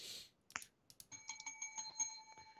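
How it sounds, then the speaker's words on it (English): A small bell is rung during a live radio show, with a few quick bright rings sounding alone after a brief rustle, leaving a clear ringing tone. "Ring the bell."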